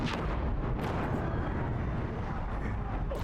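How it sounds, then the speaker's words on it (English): A disc launcher explosion in the game Horizon Zero Dawn Remastered gives a heavy, rumbling roar that rolls on continuously at moderate loudness, broken by a few sharper bursts. "that looks concerning. Disc launcher."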